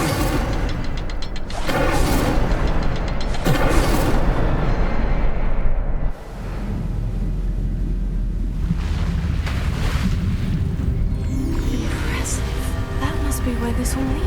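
Fiery Incendio spell blasts burst out in Hogwarts Legacy as a couple of loud whooshing surges over a dense, roaring game ambience, with a deep rumble and an excited voice speaking among them.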